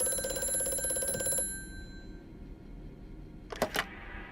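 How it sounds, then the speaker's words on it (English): Old telephone ringing inside a game of Amnesia: A Machine for Pigs, a steady tonal ring with harmonic buzz over the first second and a half, then stopping, followed by a couple of short knocks near the end. "Hear a phone."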